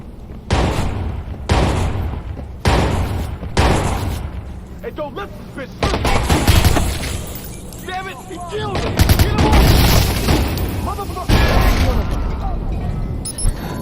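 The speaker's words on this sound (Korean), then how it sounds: "방금 누가 여기 폭발물 잘못 건드려가지고 자기 혼자 죽은 것 같은데" Gunfire and explosions fill a chaotic shootout in the video game Watch Dogs, with repeated loud booms and rattling bursts at close range alongside speech throughout.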